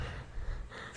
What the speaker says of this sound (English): They hear me breathing now.